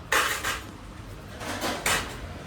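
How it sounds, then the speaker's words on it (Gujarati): Dishes, pots and pans clatter in a home kitchen as a mother washes up. A few separate bursts of clanking metal and crockery stand out over a steady background hiss. "તો મમ્મી વાસણ કરે છે"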